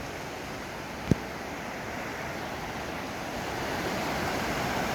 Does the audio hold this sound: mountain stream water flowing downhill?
yes